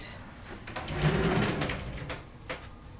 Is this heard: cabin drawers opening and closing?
yes